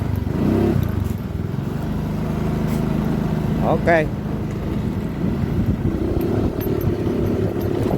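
Honda Beat FI scooter with a loss-of-power fault running on a road test ride, a steady engine drone mixed with wind rumble throughout, with a brief spoken word near the start.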